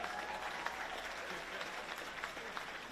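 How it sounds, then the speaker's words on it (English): Outdoor crowd at a hot summer-morning closing celebration for a virtual career academy applauding Mr. Davis, a steady, dense wash of clapping that runs throughout, with faint voices blended underneath. "I want to ask Mr. Davis, let's give him a round of applause."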